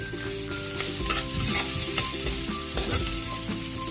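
Garlic and onion sautéing in a pan for pinakbet, a busy continuous sizzle with repeated scraping stirs of a utensil, close and fairly loud, with no voices.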